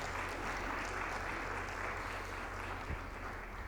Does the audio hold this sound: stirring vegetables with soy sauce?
no